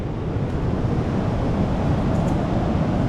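Ocean surf breaking on a beach after a storm, a dense continuous wash of water with some wind buffeting the microphone, no voices.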